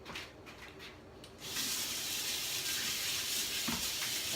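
Cold tap water running into a kitchen sink for hand washing, turning on partway through as a steady, close, broadband rush that continues to the end, with no talking.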